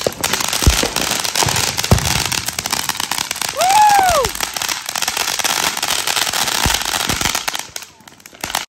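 Lit fireworks crackle and pop steadily outdoors, a dense continuous sizzle with brief whistling bursts near the middle before the barrage fades out at the end, with people's voices mixed in.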